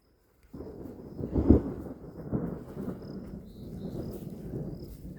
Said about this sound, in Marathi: ढगांचा आवाज येऊन राहिला आहे